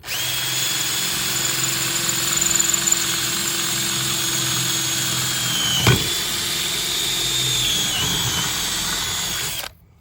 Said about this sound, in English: Quarter-inch drill bit, we're just gonna drill straight down.